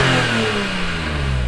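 A stock Nissan GT-T engine with factory exhaust revs from inside the car, a deep, bassy, droning note with airbox intake sound, steady and loud throughout.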